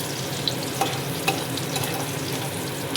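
Hilsa fish head frying in a pan for a taro-leaf dish, a steady close sizzle and crackle with occasional sharper pops and stirring scrapes throughout.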